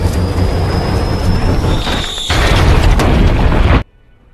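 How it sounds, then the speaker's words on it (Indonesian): Crash landing of a passenger plane in a film scene, a loud rumbling roar with booming impacts and metallic scraping, building in intensity before cutting off abruptly. "Lalu pesawat pun mendarat darurat"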